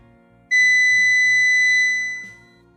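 A single steady high-pitched continuity beep sounds from a UNI-T UT161E multimeter, close and clear, holding for nearly two seconds before fading out.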